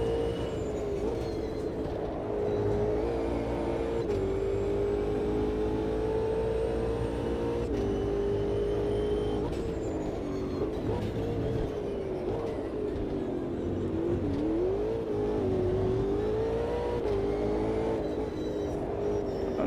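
A race car engine in the Automobilista 2 racing game revs hard and continuously, its loud droning pitch rising and dipping with throttle and gear changes throughout, with no talking.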